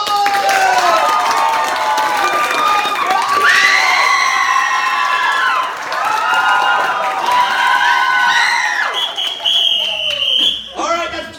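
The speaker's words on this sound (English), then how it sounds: "Clap loud and hard for both teams, because that's our very, very legitimate way of voting here." At a graduation show, a crowd votes for a team by clapping and cheering loudly, with high excited shouts and screams rising and falling in waves before tailing off.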